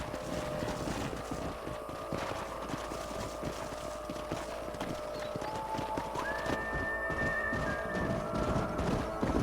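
Horses galloping in Red Dead Redemption, a dense rapid clip-clop of many hooves with an occasional whinny over a busy game soundscape, no talk.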